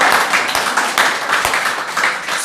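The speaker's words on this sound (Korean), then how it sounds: "박수로 기뻐서 하나님께 영광을 돌리자" A church congregation applauds together, a dense and continuous wash of many hands clapping at close range with no break across the moment.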